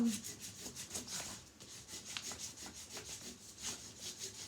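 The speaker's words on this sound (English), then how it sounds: "I want to get a lot of pressure. I'm just going to rub this entire area." Firm, heavy-pressure rubbing across a surface while marking up a symmetrical elf, a continuous rasping scrub with quick repeated strokes, close and steady throughout with no talking.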